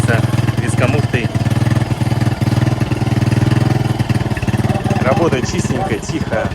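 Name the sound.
small four-stroke outboard boat motor running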